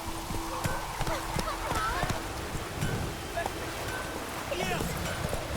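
Hooves of Roach, a horse in The Witcher 3, beat out a galloping clip-clop rhythm in a wild outdoor setting, steady and close under wind, with a voice speaking over it.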